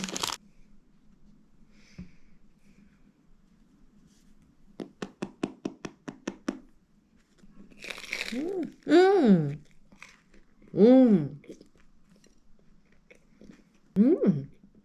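Someone bites into and eats a plain salt bread: a faint crunch, then a quick run of soft crisp bites, followed by close, muffled chewing and mouth sounds with short spoken remarks mixed in.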